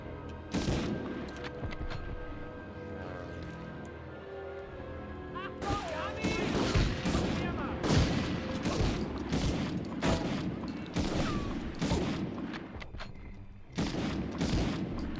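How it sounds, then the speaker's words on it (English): Game gunfire in GTA Vice City crackles from somewhere behind in bursts of sharp, repeated shots, dense and loud from the middle of the clip onward, mixed with other game sounds and no speech. "Someone behind me shooting, isn't there?"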